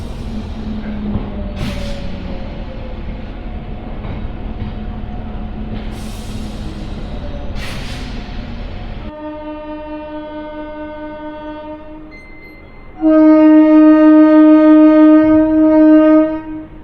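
A MEMU passenger train departs Aravalli railway station with a low rumble and clattering wheels, then a steady electric whine. Near the end a loud, sustained horn sounds close by for several seconds.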